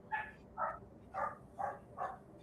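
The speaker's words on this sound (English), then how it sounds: "the doggos be screeching, they be barking" Dachshunds give five evenly spaced, high, yappy barks at a moderate distance, each short and sharp, with quiet gaps between them.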